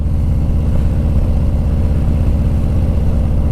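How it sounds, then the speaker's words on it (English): A Harley-Davidson 114 Street Bob with a Cobra El Diablo 2-into-1 exhaust, S&S 475 cam and dyno tune idles with a deep, loping, rhythmic rumble, loud and close, steady throughout. "Man, that exhaust is loud, eh?"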